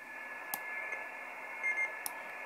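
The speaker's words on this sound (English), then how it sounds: "I'll just turn the volume up and you'll hear it beeping." Short beeps from the Bhi NEDSP1061 noise eliminating module fitted in a Yaesu FT-817nd radio, a few brief high tones over a steady hissy radio background, faint and spaced apart.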